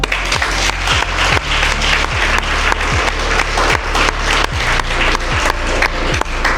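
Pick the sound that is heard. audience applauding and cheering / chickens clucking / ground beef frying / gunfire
audience applauding and cheering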